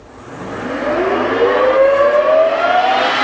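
Warco GH1440 metal lathe with a VFD install starting up, its motor whine rising steadily in pitch as it spins up to speed, loud and close with no talk.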